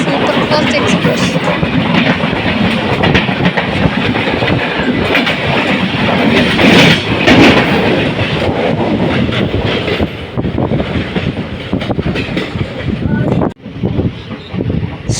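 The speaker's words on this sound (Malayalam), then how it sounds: "നിസാമുദ്ദീൻ എറണാകുളം മംഗള എക്സ്പ്രസ് ആണ് ക്രോസ് ചെയ്ത് പോകുന്നത്" The Nizamuddin–Ernakulam Mangala superfast express rushes past close by, a loud sustained roar of wheels and wind buffeting with rhythmic rail clatter, heard from aboard another train near Angamaly.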